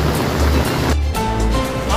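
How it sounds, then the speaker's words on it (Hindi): Floodwater pours over graves in a Muslim cemetery, a loud continuous rushing and churning of water with a brief dip partway through. "आप देख सकते हैं यहाँ कब्रों के ऊपर से पानी बह रहा है"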